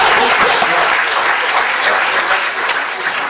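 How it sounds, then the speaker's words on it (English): Sustained applause from a school board meeting audience, dense and steady clapping throughout with no pause, fairly loud and close. "Let's give them that round of applause."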